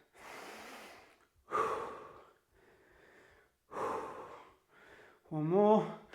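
Heavy, rhythmic breaths with gasps and forceful exhales come in several bursts during a high-impact home gym workout, close and fairly loud, with brief pauses between efforts.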